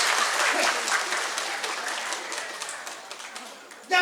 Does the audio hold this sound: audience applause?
yes